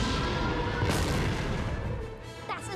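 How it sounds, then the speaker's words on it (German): Explosions and blaster fire from the space battle over Naboo in Star Wars: The Phantom Menace, a dense, loud, continuous rumble of booms with a sharp crash near the start and a whining fly-by toward the end. "Was ist denn das? Es explodiert von innen."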